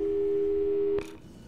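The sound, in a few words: telephone call tones in the video game Portal 2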